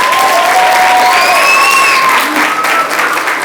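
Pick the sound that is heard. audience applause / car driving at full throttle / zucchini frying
audience applause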